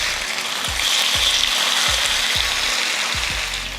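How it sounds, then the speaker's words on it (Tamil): Fish frying in hot oil with curry leaves in a pan, a steady close sizzle and crackle running throughout with a faint repeating clicking beneath, no voices. "ஒரு கொஞ்சம் கருவேப்பிலை போட்டுட்டு இப்போ மீன் எடுத்து பொரிச்சிடலாம்"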